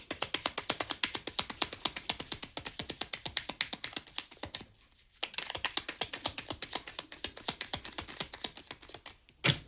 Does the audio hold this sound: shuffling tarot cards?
yes